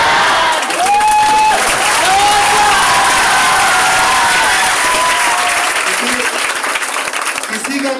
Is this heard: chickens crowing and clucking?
no